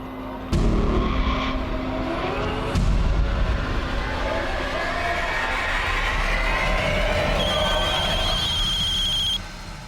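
A telephone rings in repeated electronic bursts over a steady background rumble, fairly faint, with a brief high tone near the end.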